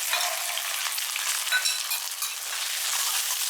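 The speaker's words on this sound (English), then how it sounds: "Keep stirring on high heat until cooked." Egg fried rice sizzles steadily in a hot wok over high heat, a continuous bright crackle of frying with faint stirring scrapes and no voices.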